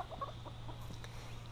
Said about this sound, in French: La poule viandotte qui est ici, doré liseré blanc